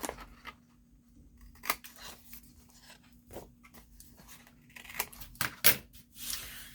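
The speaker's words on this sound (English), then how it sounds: "I can just trim those ends off" Scissors snip off loose ends in several quick, crisp cuts, close by against a quiet background.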